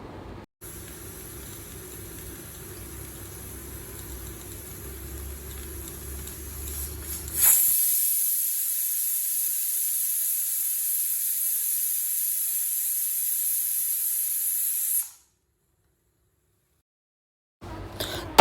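A pressure cooker with its lid on, cooking mutton chops in water, gives off a continuous high steam hiss that grows louder midway and holds steadily before cutting off abruptly, leaving near silence.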